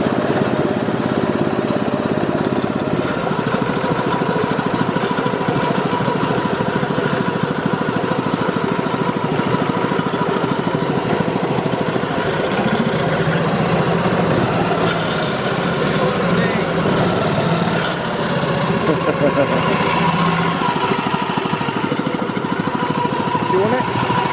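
A small engine runs at idle after the throttle is pulled back, giving a steady, continuous drone that stays loud throughout, with people talking over it at times.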